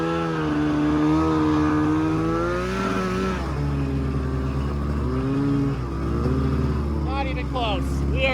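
Twin engines on a homemade snow vehicle drone and rev up together, loud steady motor hum with shifting pitch throughout while people talk over it.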